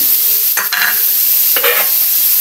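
Red and green chilies sauté with vegetables in a pan, a loud continuous hiss broken by two quick scraping stir strokes.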